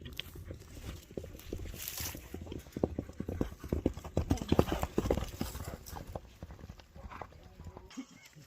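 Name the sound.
bay Kyrgyz horse galloping, hooves clip-clopping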